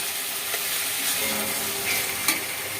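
Tomatoes and ground spices fry in a pan for a Bengali fish curry, a steady close sizzle with occasional soft clicks and scrapes of stirring.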